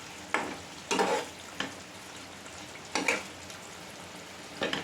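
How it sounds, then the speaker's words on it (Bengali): Boal fish being stirred into spices in a hot pan, with a steady low sizzle broken by four or five distinct bursts of scraping and stirring, close and alone. "মাছগুলো দিয়ে ভালো করে মিশিয়ে নেব মশলার সাথে।"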